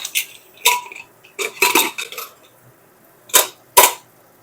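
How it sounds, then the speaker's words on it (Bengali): A pressure cooker lid being opened after the cooker has cooled while making ghugni, heard as a few sharp metallic clanks and rattles spaced across a few seconds, close and fairly loud with no talking. "প্রেসার কুকারও ঠান্ডা হয়ে গেছে ঢাকনা খুলে নেব"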